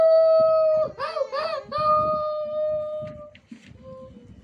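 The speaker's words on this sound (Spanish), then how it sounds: "ya se empezaban a oír los aullidos del lobo en el bosque" A wolf howls in a forest, a long sustained tonal cry with wavering pitch and a few layered rising calls, loud and close, followed by quieter fainter howling and soft background noise.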